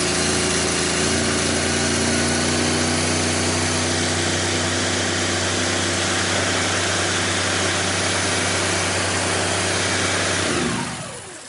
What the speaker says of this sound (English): So we'll start the engine.